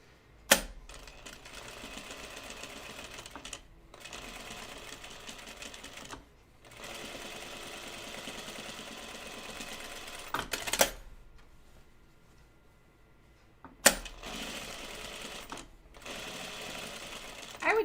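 A sewing machine top stitching jeans pockets runs in steady rapid bursts, stopping and restarting several times with a few sharp clicks between runs, close and fairly quiet.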